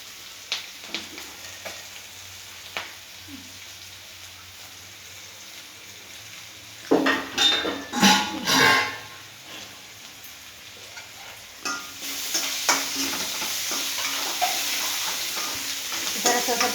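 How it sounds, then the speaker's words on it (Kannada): Onions frying in a pan, with a soft steady sizzle that swells as a spoon scrapes and stirs them in a few close bursts, then continues as a louder hiss. "ಸ್ವಲ್ಪ ಫ್ರೈ ಆಗಲಿ, ಅದು ಕಲರ್ ಬರಲಿ."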